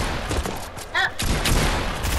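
Rapid video game gunfire crackles in a loud, dense burst that fills the whole stretch with little break, while a voice talks over it.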